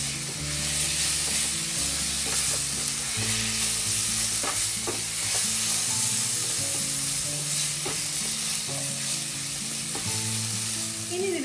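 Chopped tomatoes sizzle and fry in an oiled pan for egg rice, with a steady hiss and occasional stirring scrapes.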